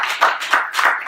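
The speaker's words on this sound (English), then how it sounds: "If you guys could give Lexi a big round of applause." A small audience claps for Lexi in a short, close burst, a few distinct pulses of hands clapping without voices.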